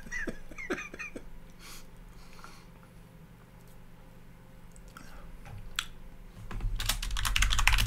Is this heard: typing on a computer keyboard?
yes